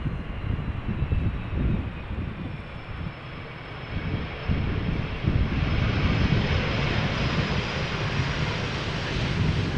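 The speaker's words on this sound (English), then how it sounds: "This is Turkish Airlines flight 1957, arriving from Istanbul." A Turkish Airlines Airbus A330-300 arrives at Schiphol from Istanbul, its engine roar growing louder and broader as it nears, settling into a strong, steady rumble in the second half.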